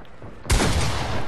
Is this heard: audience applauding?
no